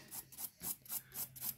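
A nail file rasps back and forth over acrylic nails in quick, regular strokes, about six soft scratchy passes, faint and close with no talking.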